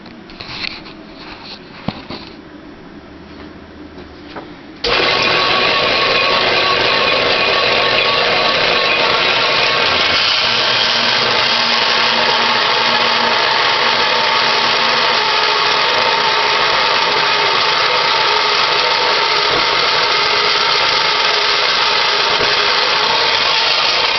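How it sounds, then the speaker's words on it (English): A bandsaw cutting a knife blank makes a loud, steady mechanical roar and whine that starts abruptly after a few seconds of quiet handling noises, then runs on without a break. "And then I'll take it over to the bandsaw and make a cut."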